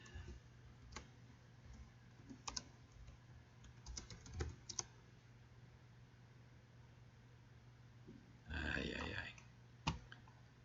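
A computer keyboard is typed on in sparse, faint clicks and short bursts over a steady low hum, with a brief muffled rustle or voice near the end.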